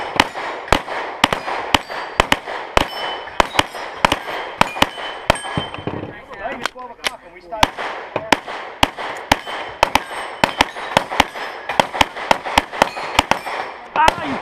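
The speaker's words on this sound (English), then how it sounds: "Shooters appear ready. Stand by. Fire." Shotguns fire at plates during an outdoor plate shoot at Wallum Lake, a rapid irregular series of sharp, loud reports with metallic clangs from the struck plates, a brief lull midway and voices faintly between shots.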